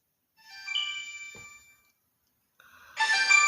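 A phone ringing with a bright electronic ringtone, a chiming tone sounding, pausing, then returning louder and fuller, close by with no talking.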